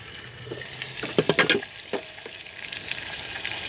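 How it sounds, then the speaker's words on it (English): Sausage sizzles in a frying pan, hot fat crackling, with a cluster of sharper pops and scraping clatter in the middle, steady hiss underneath, cooking on a camp stove in a van. "Listen to that sizzle."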